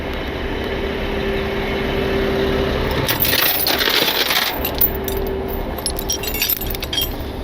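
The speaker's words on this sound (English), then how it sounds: "I have to chain that axle up and this axle up." Metal chains clink and rattle loudly in bursts while a rollback truck's axles are chained down, with an engine idling steadily underneath.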